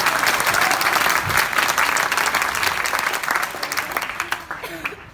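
An audience breaks into loud, sustained applause for a guest at a motivational talk, a dense wash of clapping that gradually fades over several seconds.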